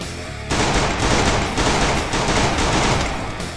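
Rapid automatic fire from a G18 pistol in the Free Fire shooting game erupts after a brief pause and continues as a dense, loud, unbroken stream of shots with no talking.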